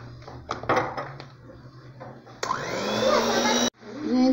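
Electric mixer whirring loudly as it beats cake batter with added coconut milk for a Ninho powdered-milk coconut cake, a steady high motor drone starting after some kitchen clatter and briefly cutting out before resuming.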